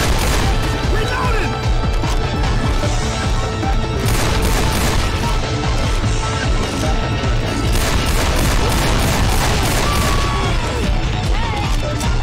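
Weapons firing in Left 4 Dead 2, a relentless barrage of loud gunfire and crashing impacts filling the whole stretch with no letup.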